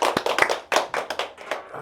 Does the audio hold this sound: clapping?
yes